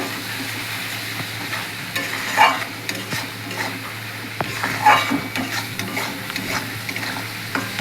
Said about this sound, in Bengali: খুব ভালো করে মশলা দিয়ে যতক্ষণ তেল না ছাড়ে ততক্ষণ কষাতে হবে